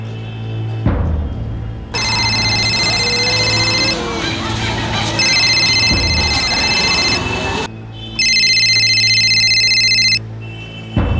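An electronic phone ringtone plays in repeated bursts, loud and close, with a low hum and some background noise between rings.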